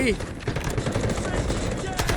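Rapid automatic gunfire in the shooter game Delta Force, AKM-type rifle bursts crackling densely and continuously throughout, loud and close.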